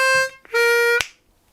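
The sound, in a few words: blues harmonica lick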